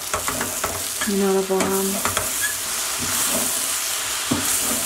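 Okra and aubergine sizzle and hiss while frying in a pan, with brief stirring scrapes and someone speaking softly over the steady frying noise.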